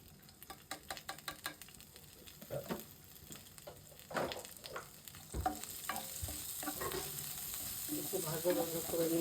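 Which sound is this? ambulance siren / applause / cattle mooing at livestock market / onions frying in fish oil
onions frying in fish oil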